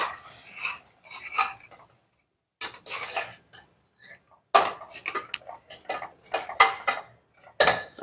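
Metal utensils scrape and clink against a pan while mint and coriander paste is stirred, in uneven bursts with short pauses, close and fairly clear with no talking.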